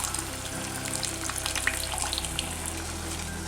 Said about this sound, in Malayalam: ഇനി ഇതിൻ്റെ കൂടെ പുളിവെള്ളവും കൂടി ഒഴിച്ച് കൊടുക്കാം.